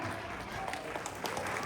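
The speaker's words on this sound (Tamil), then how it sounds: "பெரிய கைத்தட்டல் கொடுத்துடலாம்." Applause from an audience after a fifth-grade dance performance at a Tamil school in California, a brief burst of clapping heard under continuing voices.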